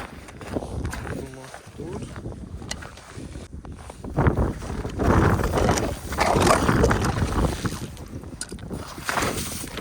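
Gusting wind sweeps across a frozen lake on a winter ice-fishing outing, roaring and buffeting the microphone in rising surges, with voices talking now and then.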